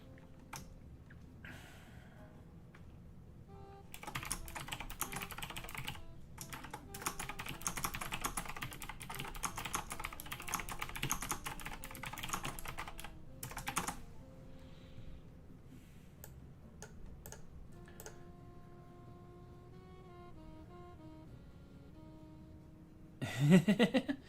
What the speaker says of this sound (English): I'm frantically typing things in for the slides.